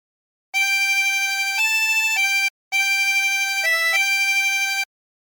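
A diatonic harmonica plays a phrase of the hymn Nearer My God to Thee without bends, in two loud, steady runs of held blown and drawn notes with a brief pause between them, no voices.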